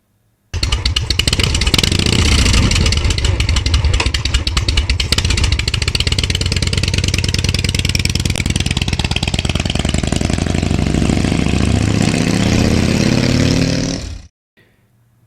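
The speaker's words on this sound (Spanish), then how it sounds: "qué habrá en la cabeza del conductor de esa moto que soporta sin problema ese ruido infernal en cada trayecto que recorre" Loud motorcycle engine close to the microphone, idling then revving hard in a continuous harsh roar with rising and falling pitch for about fourteen seconds before cutting off abruptly.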